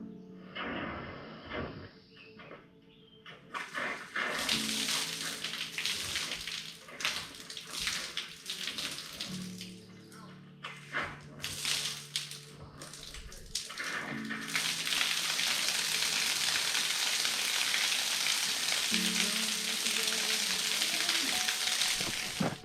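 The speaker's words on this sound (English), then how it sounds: "Water should be spewing into the basement," Water bursts from a newly installed water line into a basement, hissing and splashing irregularly at first with knocks and sputters of air, then settling into a loud, steady rushing spray.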